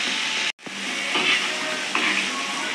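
Fish fillets for Tirunelveli-style meen varuval fry in a pan of oil, a continuous close hiss and sizzle broken by a brief silent gap near the start, with faint pops scattered through.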